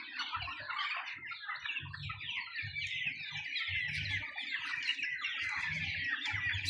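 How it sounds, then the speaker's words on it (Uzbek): A crowd of healthy black chicks cheeps nonstop close by. Their high, overlapping peeps form a dense chorus over a faint low rumble. "Jo'jalar hammasi sog'lom."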